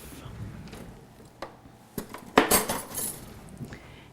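A knife clinks and scrapes against a dish while cinnamon bread is swirled, giving a handful of sharp metallic taps and rattles, louder toward the middle, over quiet room noise.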